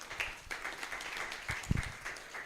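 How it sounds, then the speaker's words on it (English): Applause from an audience at a health-financing roundtable, faint and somewhat distant, with scattered irregular claps rising and falling over a couple of seconds. "Let's give a warmer round of applause."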